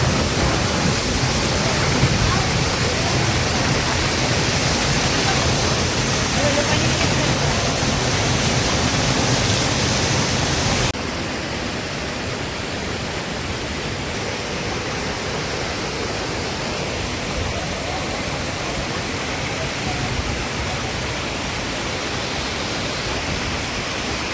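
Sai waterfall near Karnala Fort roars as a broad, loud, unbroken rush of falling water, dropping slightly in level partway through but continuing steadily with no voices.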